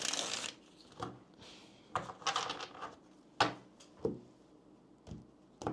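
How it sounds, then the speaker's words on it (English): A deck of tarot cards is shuffled by hand in quick, crisp riffling bursts separated by short pauses, close and clear with no talking. "let me go ahead and shuffle these cards"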